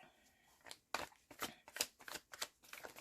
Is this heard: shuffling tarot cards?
yes